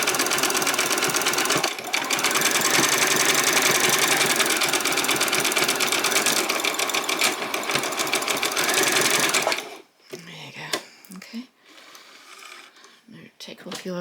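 A sewing machine stitches a basic dress in a loud, steady run of fast needle rattle lasting about ten seconds, then stops, leaving quieter handling noises and faint clicks.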